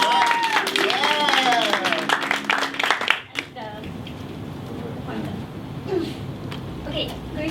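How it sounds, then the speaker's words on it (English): A crowd at an accountancy talk claps for a speaker, dense applause for about three seconds under a speaking voice, then it dies away to quiet room tone with sparse voices. "I think she deserves a bigger round of applause"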